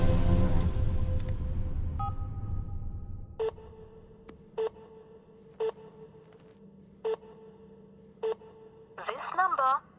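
A phone line crackles, then a short beep is followed by a string of evenly spaced dialing tones, each a brief burst, ending in a warbling electronic signal.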